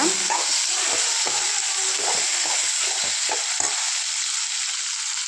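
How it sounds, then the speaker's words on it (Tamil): Onions frying for potato kurma sizzle with a steady loud hiss while a spoon scrapes and stirs them in the pan in repeated short strokes, with no talking. "நல்லா இப்படி ஃப்ரை பண்ணிக்கோங்க ப்ரௌனிஷான வரைக்கும்"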